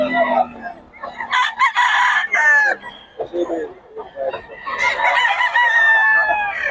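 Roosters crow repeatedly at a poultry spot in Bocaue, loud close cock-a-doodle-doo calls overlapping with clucking, a brief pause mid-way, then a long crow rising again.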